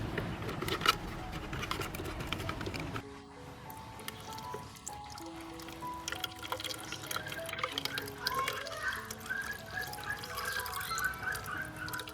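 Water pours and trickles steadily into a can holding orchids, then breaks into scattered drips and splashes, moderately close, with a low background murmur.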